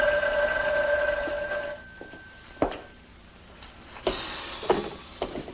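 A telephone in a radio drama rings with a bright trilling bell for a couple of seconds, followed by sparse clicks and knocks of the receiver being handled.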